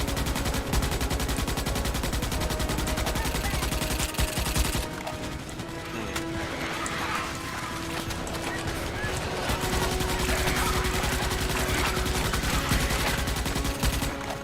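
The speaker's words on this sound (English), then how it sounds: "Keep shooting calmly." Rapid gunfire in the sci-fi shooter Starship Troopers: Extermination, sustained automatic bursts crackling almost continuously with a brief lull midway, blended with game noise while players talk over it.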